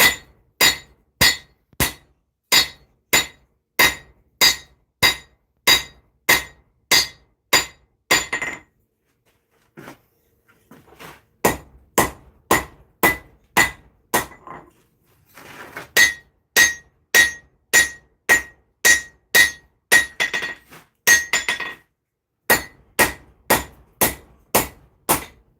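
Steel hammer blows ring out while beveling a small metal replica of the Zangetsu sword from Bleach, sharp metallic strikes in fast steady bursts, loud and close, broken by two short pauses with scraping and handling noise.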